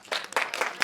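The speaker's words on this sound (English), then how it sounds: "Clap of hands if you've ever been there." An audience at a Las Vegas series premiere clapping hands in a short, lively burst of several quick claps, moderately close and without talk.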